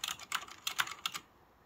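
Keys on an old computer keyboard in an abandoned Catholic school, pressed in a quick irregular burst of about eight crisp clacks close up, then stopping into quiet.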